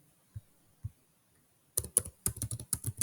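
Router configuration commands typed on a computer keyboard: two soft isolated taps, then a close, fast run of crisp key clicks in a quiet room.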